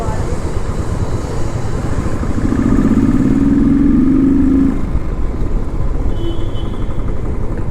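A motorcycle engine runs close by at a steady loud idle, its pitch rising in a rev through the middle and then settling back, with a voice over it.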